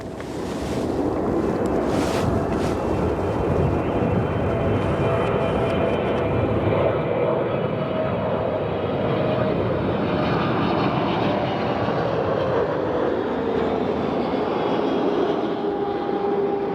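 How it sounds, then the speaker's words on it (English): An ANA Boeing 777 cargo jet arriving from Tokyo lands at Chicago O'Hare, a loud sustained jet roar with a gradually falling engine whine heard from outdoors at the airport, without talking. "Our next arrival from Tokyo NRT, Boeing 777 ANA cargo, flight time approximately 11 hours and 9 minutes."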